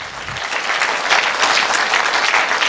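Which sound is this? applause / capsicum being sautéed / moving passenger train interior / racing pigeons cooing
applause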